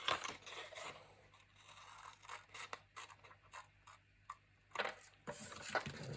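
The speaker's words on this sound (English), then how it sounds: "And I'm just using my scissors." Scissors cut through patterned scrapbook paper for a travel album, a few short crisp snips and papery scrapes spaced irregularly, close and fairly quiet, with no talking.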